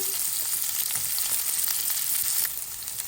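Chopped onions sizzle in hot oil with cumin, mustard seeds and dried red chillies, a close, steady frying hiss with faint stirring, no talk.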